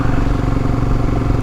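Royal Enfield Himalayan motorcycle ridden briskly on a hill road near Kodaikanal, a steady loud low engine drone with rumbling exhaust and wind, continuous with no talk.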